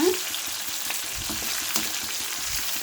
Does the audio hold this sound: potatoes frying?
yes